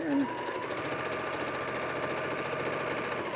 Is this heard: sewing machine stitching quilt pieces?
yes